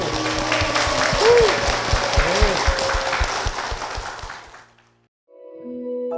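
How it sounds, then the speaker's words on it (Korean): Church congregation claps for the Lord during a service, a lively burst of many hands over a background of music and voices, fading out after a few seconds. "주님께 영광의 박수를 드리겠습니다."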